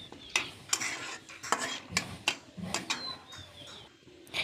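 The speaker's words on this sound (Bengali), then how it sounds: "তার সাথে 1 চামচ ঘি দিয়ে দিলাম। তারপর এটাকে সুন্দরভাবে নেড়ে নিলাম।" A spoon stirs pulao with ghee in a pot, scraping and clinking against the metal in a quick irregular series of close, distinct strokes with a faint bird chirp in the background.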